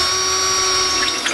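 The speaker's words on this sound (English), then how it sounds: "You can use a drill bit or you can use a step bit." An electric drill or step bit enlarges a hole in the steel frame rail of a 2015 Ford Transit T250, a steady high-pitched whine with a constant tone, close and loud, with no talk.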